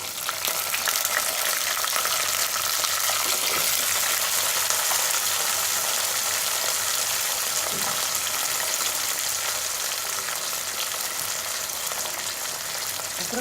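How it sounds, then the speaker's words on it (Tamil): Small shallots and garlic fry in hot oil, a loud, continuous close-up sizzle and crackle that holds steady throughout with occasional stirring. "இதில் நம்ம எடுத்து வச்சுருக்க சின்ன வெங்காயமும் பூண்டும் சேர்த்துக்கிறேன்"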